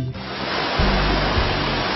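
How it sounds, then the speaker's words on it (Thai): Soi Sawan waterfall, a large fall dropping from steep cliffs about 20 metres high, gives a loud, continuous rushing roar of heavy water close by, with no voices. "น้ำตกสร้อยสวรรค์น้ำตกขนาดใหญ่ไหลจากหน้าผาสูงชันสองด้าน"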